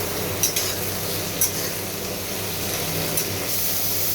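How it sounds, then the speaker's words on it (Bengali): Ginger, cashews and tomato fry in a pan for a chhanar kofta curry with a constant bright sizzle. A few sharp spatula clicks against the pan stand out, and no one speaks. "আদা, কাজু, টমেটোটা ভেজে নিয়ে এর সাথে পেস্ট করে নেব"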